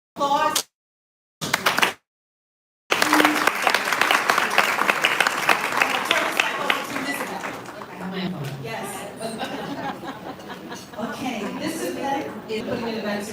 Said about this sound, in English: we're going to take another round of applause